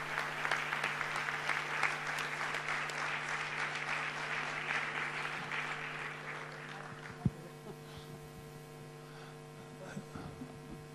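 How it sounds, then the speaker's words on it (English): Applause from an audience at a public speaking event, dense and sustained at first, then thinning out to scattered claps over a steady electrical hum, with a thump near the end. "give another round of applause to Roseanne Barr"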